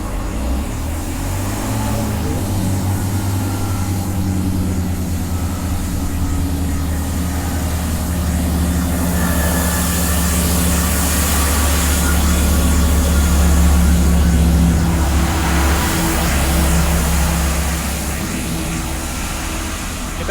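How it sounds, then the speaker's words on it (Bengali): A small two-carriage local train at a quiet English village station rumbles with a low steady drone, gradually building as it pulls away, with broadband rolling noise over it. "দুজন যাত্রী নামলো ট্রেনটা আবার ছেড়ে দিচ্ছে"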